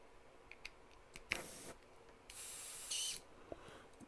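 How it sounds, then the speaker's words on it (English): An airbrush hisses in short spurts on its own during a Harley paint job, two or three soft bursts of spray with faint clicks in between, quiet and close. "this brush is spraying by itself"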